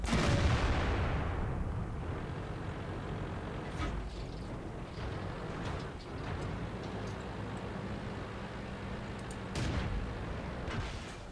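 Heavy tank gun shots in World of Tanks, fired at a Jagdpanzer from a Comet tier 7 medium tank; a loud booming blast opens, followed by further dull thuds and rumbling impacts under ongoing battle noise.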